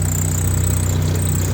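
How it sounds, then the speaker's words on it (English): A Nissan S13 Silvia engine runs at a steady idle, its intercooler piping rubbing and vibrating against the frame, giving a continuous close low hum with a faint high whine and no talk. "It just sounds like something's fucking vibrating."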